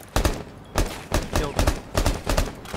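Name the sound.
gunfire in Rainbow Six Siege video game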